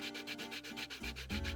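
Hand sanding of CNC-machined speaker parts, with repeated rhythmic abrasive strokes rubbing back and forth, close and fairly quiet, with no talking.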